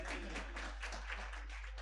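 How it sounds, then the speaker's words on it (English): Conference audience clapping, a steady dense patter of many hands that holds evenly for the whole stretch with no voices over it. "Give a big hand to Roti."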